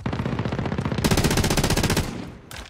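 Rapid, steady machine gun bursts in Call of Duty Cold War Warzone, close and loud, firing a continuous string of shots that tightens mid-burst, stops briefly, then resumes with a short final volley.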